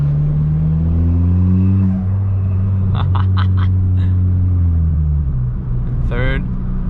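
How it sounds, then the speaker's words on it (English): A Fiesta ST fitted with a hybrid turbo idles and revs with a deep rumbling engine note and a faint turbo spool, while someone talks over it and a few sharp clicks break through. "Can't get into boost, but you can hear a little bit of spool"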